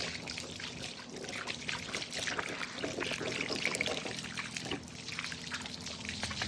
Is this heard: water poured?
yes